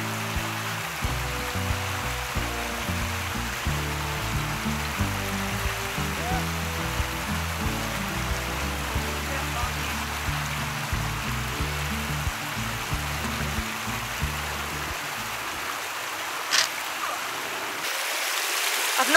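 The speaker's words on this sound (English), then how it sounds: "looks like a nice little bit of river, doesn't it?" Steady broadband rushing of a small river flowing over rocks, continuous and fairly close, heard outdoors in the Peak District. The low end thins out near the end.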